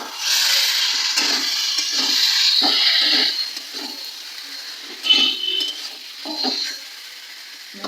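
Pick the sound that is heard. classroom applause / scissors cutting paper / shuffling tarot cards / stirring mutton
stirring mutton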